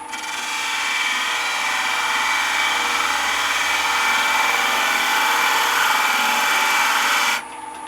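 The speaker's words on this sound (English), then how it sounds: "I'm just going to take my bowl gouge and shape the cork until this fits on there" Bowl gouge cutting dense cork spinning on a wood lathe, a steady, loud, continuous broadband scraping hiss with motor hum that runs unbroken for about seven seconds before the cut stops and the lathe keeps running quieter.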